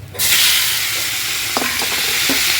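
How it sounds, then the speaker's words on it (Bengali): Chopped tomatoes hit a pan of hot spiced oil tempering for a chicken dish, bursting into a loud, steady sizzle that hisses on throughout, with a few scrapes of a spoon stirring near the end. "ফোড়নটা খুব ভালোভাবে হয়ে গেছে, দিয়ে দেবো কেটে রাখা টমেটোগুলো।"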